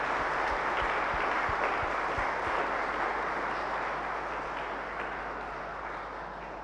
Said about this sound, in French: Et on peut les applaudir bien fort et les encourager.